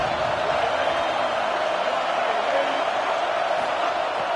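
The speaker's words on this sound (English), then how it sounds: "This crowd ready to make its presence known." Dense stadium crowd roar at a college football game between Texas A&M and UCLA, a loud continuous wash of noise with faint talk underneath.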